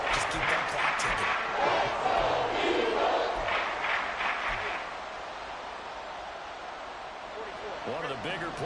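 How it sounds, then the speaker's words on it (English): Stadium crowd in an American football video game roaring and cheering ahead of a big third down, a loud sustained swell of many voices that eases to a lower murmur, under a commentator's talk. "the crowd getting into it as we come up on a big 3rd down"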